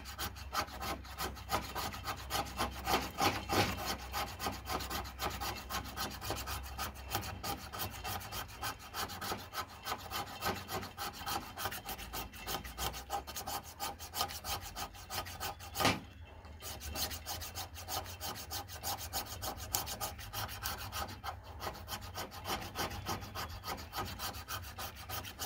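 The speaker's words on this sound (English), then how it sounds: "Now I'll make some fine shavings." A knife shaves fine curls from a piece of fatwood in quick, repeated rasping strokes, close and steady, with one short pause partway through.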